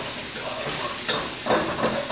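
Steady broadband sizzling of garlic in a hot pan, with a couple of louder hissing surges as liquid hits the heat.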